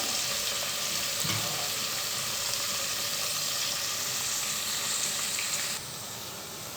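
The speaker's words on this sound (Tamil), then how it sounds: "வெங்காயம் நல்லா வதங்கி வரணும்" Onions sauté in a pan for mutton biryani, giving a continuous hissing sizzle at moderate level with a faint stir early on. The sizzle drops slightly quieter near the end, with no voices.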